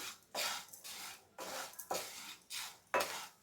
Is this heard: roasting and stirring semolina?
yes